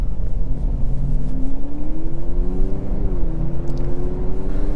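Honda CR-V Sport Touring Hybrid pulling away from auto hold inside the cabin, a low steady road rumble with a faint rising tone as it accelerates.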